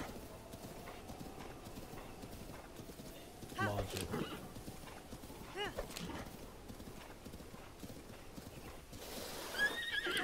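Horse hooves clip-clopping with a whinny in The Legend of Zelda: Breath of the Wild, moderately loud gameplay sounds under someone talking over them.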